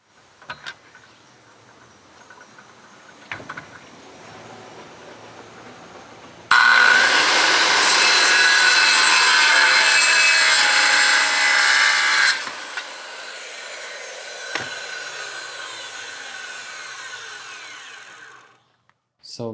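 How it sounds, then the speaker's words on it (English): A power saw cuts wood planks to size for concrete pillar forms on a container foundation build in Costa Rica: a loud, harsh whine for about six seconds, with quieter knocks and handling noise before and after. "Now I'm gonna cut the rest of the wood to measure the middle of the pillars."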